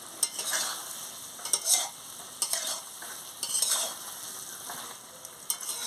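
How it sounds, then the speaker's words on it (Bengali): Papaya being stir-fried in a pan, a continuous gentle sizzle with repeated spatula scrapes and stirring strokes at an uneven rhythm, close by. "আনাজটাকে ভালো করে কষিয়ে নিলেই তো ভালো।"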